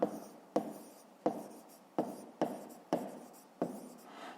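Pen writing on paper close up, a series of about eight quick scratchy strokes in an irregular rhythm, each starting with a sharp tap and trailing off softly in a quiet room.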